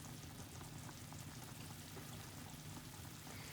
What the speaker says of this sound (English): Now it's boiling up.